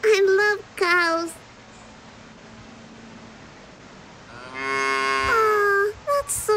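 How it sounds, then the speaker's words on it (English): Cows moo loudly in the video game Little Misfortune, with a drawn-out call at the start and another long moo near the end, over a steady hissing background. "There's a bunch of cows on the field."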